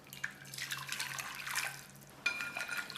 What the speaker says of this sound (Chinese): 盆中放入5克盐，加入320克的开水